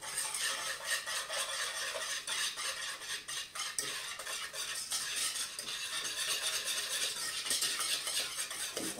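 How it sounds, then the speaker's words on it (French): Eggs and sugar whisked together in a bowl for a diplomat cake, a steady, fast scraping and clinking of the whisk against the bowl, close and continuous with no talk. "On va blanchir un petit peu les œufs."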